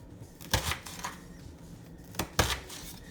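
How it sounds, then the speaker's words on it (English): A knife cutting onion and tomato on a board while saltfish boils, a few sharp separate chops with quiet gaps between them, close and fairly clear. "I'm gonna just start cutting up my onion and my tomato"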